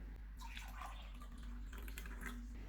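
Half a cup of lukewarm water is poured for pizza dough, a faint splashing trickle over low background hum.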